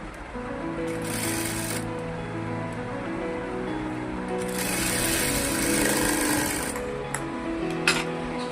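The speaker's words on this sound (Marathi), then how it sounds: "मी इथे शिलाई मारून घेतली" A sewing machine stitches a blouse back neck, its motor whirring steadily with bursts of faster needle chatter and brief pauses.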